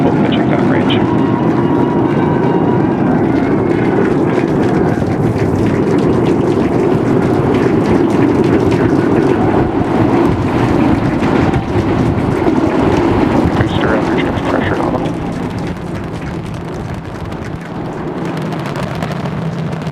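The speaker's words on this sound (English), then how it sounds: "We are seeing 33 out of 33 Raptor engines ignited." SpaceX Starship on its eighth flight climbing after liftoff, its 33 Raptor engines producing a loud, continuous rumbling roar that holds steady for the whole stretch, with a commentator's voice running over it.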